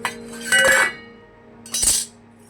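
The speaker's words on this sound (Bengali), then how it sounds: "এবার আমি ঢাকনাটা খুলে নেব" A metal lid is lifted off a cooking pot of steamed cauliflower, giving two short clinking clatters a second apart, close and fairly loud against a quiet kitchen hum.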